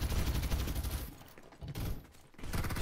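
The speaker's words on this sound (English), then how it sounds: "Exchanging fire!" Bursts of rapid gunfire trade back and forth in a Farlight 84 team deathmatch, loud and dense at first, easing briefly, then returning with a renewed volley at the end.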